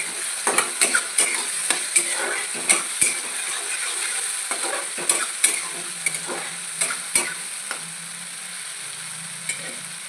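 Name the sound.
tomatoes frying and being stirred in oil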